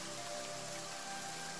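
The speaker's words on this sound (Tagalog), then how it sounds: "At ang pag-ulan ay biglang lumakas." Rain falls steadily in a dense, even patter, close and continuous, with no voices.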